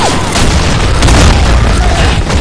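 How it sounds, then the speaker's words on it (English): A grenade explodes in the Blackshot online shooter game, a loud close boom followed by a rolling, noisy burst and debris-like crackle that fades over a couple of seconds. "Grenade! Fire in the"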